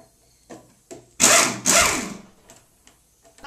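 A power tool runs in two short bursts while a lawn mower transmission is taken apart, close and loud, with faint clicks and handling noises before and after.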